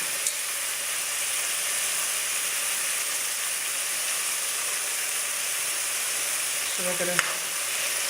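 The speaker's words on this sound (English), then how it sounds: "let that saute. We want the onions translucent before we add our cabbage" Onions sauteing in a pan for a Jamaican callaloo and cabbage dish, giving a steady, continuous sizzle and hiss throughout, with a brief clatter near the end and a voice speaking faintly at the start.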